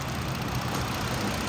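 Steady low idle of a 2014 Ford Explorer AWD's 3.7-liter V6, a smooth continuous rumble with no speech, constant in level throughout.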